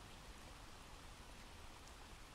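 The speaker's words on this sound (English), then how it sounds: "I want to thank Kyster for this rain sound that I just turned on now." Recorded rain falls in a steady, even hiss of drops on a surface, faint and continuous throughout with no voices.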